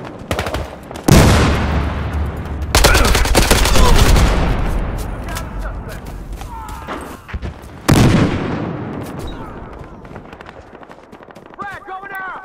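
A grenade blast and gunfire on the Everglades map of Battlefield Hardline with a SCAR rifle: heavy booming bursts that roll off slowly, scattered shots between them, and voices talking underneath.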